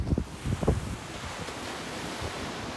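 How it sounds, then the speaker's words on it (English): Ocean surf with waves breaking and washing in, a low rumbling roll with a few stronger surges early on, then a steady wash mixed with wind buffeting the microphone. "These waves are beautiful"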